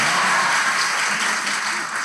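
A studio audience at a live Turkish relationship-quiz show claps, a dense, steady burst of applause that thins slightly toward the end.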